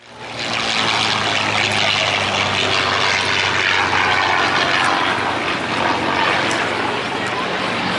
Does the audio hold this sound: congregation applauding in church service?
no